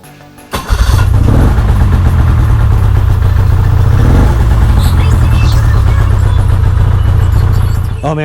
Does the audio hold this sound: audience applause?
no